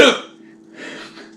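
A belch after drinking Founders Dirty Bastard scotch ale: one short, close, throaty burst at the start that fades quickly, followed by a faint low hum and soft breathy noise.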